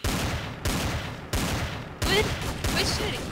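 Repeated bursts of gunfire from a turret in Garry's Mod Trouble in Terrorist Town, four loud volleys with sharp onsets each trailing off before the next.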